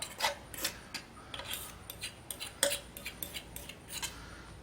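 Utensils scrape and clink against a camp pan while a fresh summer pasta with salmon and snap peas is served out; a quick, irregular series of close, light metallic scrapes and taps at low volume.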